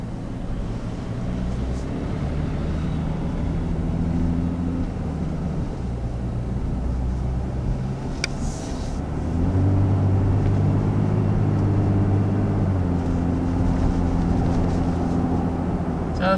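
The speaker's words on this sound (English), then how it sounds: "So taking off in the Tacoma, power is pretty good." A 2019 Toyota Tacoma pickup with a 3.5-liter V6 and four-wheel drive pulls away, its low engine drone holding steady then rising in pitch and loudness partway through, heard from inside the cabin over road noise.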